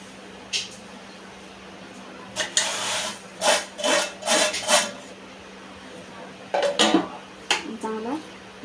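Semolina being stirred into sugar syrup in a pan over low heat for sanjyachya polya, with a spoon scraping and clinking against the metal in short irregular bursts, close and fairly quiet, no talk.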